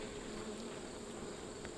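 Honey bees drone steadily in a low, continuous hum while a beekeeper inspects a hive and installs a super, a dense insect buzz close by with no voices over it.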